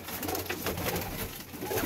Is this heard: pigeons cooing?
yes